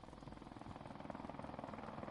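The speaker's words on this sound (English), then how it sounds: "enemy helicopter inbound! Oh god, they have a helicopter." Helicopter rotor chopping steadily in a video game, a continuous pulsing drone at moderate level with no speech over it.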